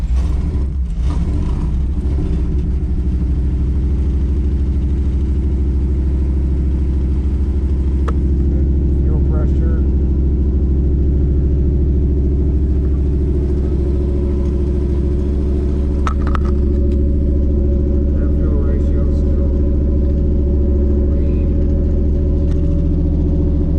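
A Chevy C10 small block V8 with a lopey cam idling after a cold start, a loud, steady deep rumble with an uneven loping pulse throughout, close up, under occasional faint talk.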